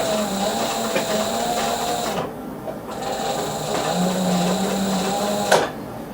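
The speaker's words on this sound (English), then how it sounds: "You're almost sewing through the underneath there." Sewing machine stitching steadily through thick handbag material, a continuous close mechanical whir with a brief pause in the middle and a small knock near the end.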